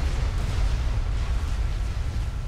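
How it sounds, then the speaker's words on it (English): Battleship shelling in the strategy game Forged Alliance Forever, heard as a constant rumbling barrage of distant artillery booms blending into one heavy, loud low roar with no pauses. "Battleship shooting mexes from across the map."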